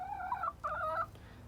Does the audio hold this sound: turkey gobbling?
yes